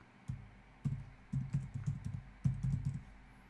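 A run of computer keyboard keystrokes as login details are entered, a few quick taps, then a pause and another short burst, close and clear with no talking.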